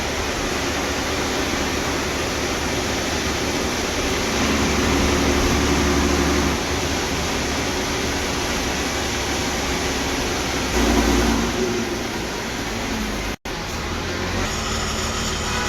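Inside an MSRTC state transport bus heading into Murbad bus stand, a loud, constant engine and road roar drones steadily, dips briefly once, and carries no talk.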